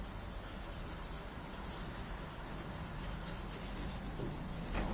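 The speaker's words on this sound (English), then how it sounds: "with some fine wire wool and a special mixture of linseed oil and Danish oil, and gently rub that in" Fine wire wool rubs a mixture of linseed oil and Danish oil into a handmade knife handle. A faint, steady scratchy rubbing goes on without pause at close range.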